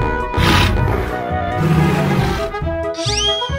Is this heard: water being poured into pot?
no